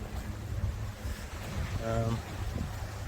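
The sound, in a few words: wind blowing outdoors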